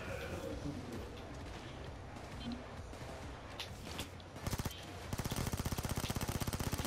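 Gunfire in the heist shooter Payday 2, a busy mix of overlapping shots that turns into a loud, rapid burst of automatic fire near the end, with a voice talking over it.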